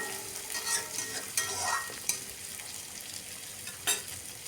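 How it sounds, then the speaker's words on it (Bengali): Onions fry with panch phoron in a pan until crisp, a fairly soft sizzle punctuated by several quick spatula scrapes and clicks at irregular intervals. "পেঁয়াজটাকেও একটু মুচমুচে করে ভাজতে হবে"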